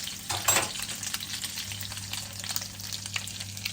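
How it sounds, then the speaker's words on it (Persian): Swedish meatballs (köttbullar) fry in a pan with a close, steady sizzle and crackle, plus a few brief clinks as they are stirred or turned. "الان من اینا رو برمیدارم و سری دوم رو سرخ میکنم"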